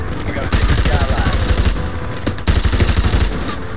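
Dense, loud gunfire in Call of Duty Modern Warfare Remastered, a steady rapid automatic rattle with no gaps.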